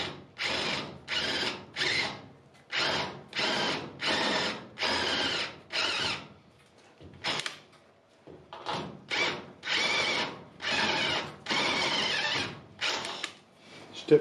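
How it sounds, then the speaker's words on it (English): A step drill bores a hole through sheet metal to 9 mm, sounding as a series of loud, whining bursts of about half a second to a second each, with brief pauses as the trigger is released. "I'll drill that out to 9mm"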